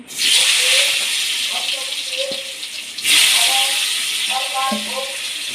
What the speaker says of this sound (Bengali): এবার আমি কেটে রাখা আলুগুলো ভেজে নেব।